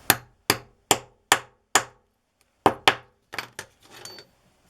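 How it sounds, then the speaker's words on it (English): A hammer strikes a metal eyelet in sharp, ringing blows: five evenly spaced hits, a pause, then several more quicker, lighter taps. "and then hit it with a hammer again"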